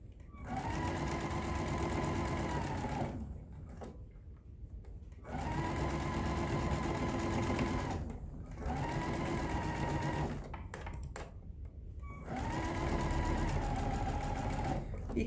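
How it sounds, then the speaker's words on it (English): Sewing machine stitching around the top edge of a fabric drawstring pouch, a steady mechanical whir in four long runs separated by short pauses, close and loud. "I'm going to sew like 1/8 of an inch all the way around that top"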